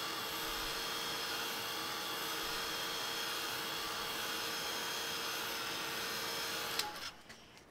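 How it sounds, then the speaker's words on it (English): Heat gun blowing over paint pen marks on paper, a steady loud fan whine and rushing air held constant for about seven seconds before switching off abruptly and winding down. "I'm going to hit them with a heat gun to dry the paint"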